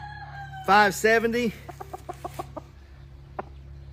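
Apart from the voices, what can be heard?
Asil rooster crowing and clucking on a farm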